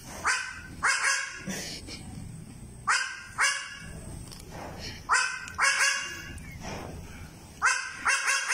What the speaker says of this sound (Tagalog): nagpanggap bilang aso ang isang kambing